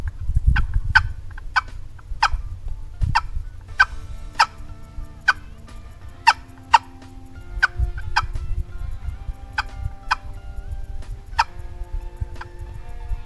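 A wild turkey hen calls from the woods off to the side and downhill during a spring turkey hunt, with a series of sharp, repeated yelps and clucks over quiet outdoor ambience.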